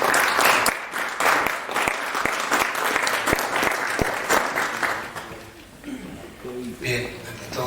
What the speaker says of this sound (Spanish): Recibamos con un voto de aplauso al artista plástico profesional